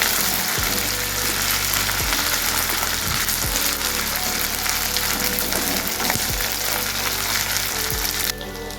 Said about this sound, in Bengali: আদা এবং রসুনের গন্ধটা যেন ভালো করে মিশিয়ে দেয়, এইভাবে আমাদেরকে এদিকে ফ্রাই করতে হবে।